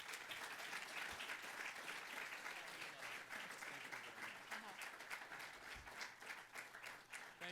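A crowded audience at the Reagan Library applauds warmly and steadily for John Avlon, a dense, continuous wash of clapping with no break, heard at a distance and fairly faint.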